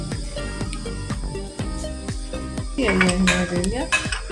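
Cumin seeds and black pepper being mixed in a dish in a home kitchen, with repeated light clinks and taps of utensil against the vessel and a brief busier stretch of scraping near the end.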